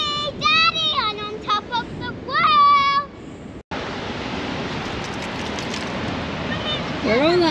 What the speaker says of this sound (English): Nothing, just massive waves.